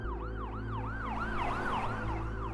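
An ambulance siren wails loudly and continuously in a rapid, repeating up-and-down yelp, close and alone with no talking.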